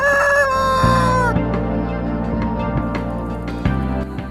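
The tail end of a loud, close rooster crow, followed by a low humming and a few soft clucks and knocks.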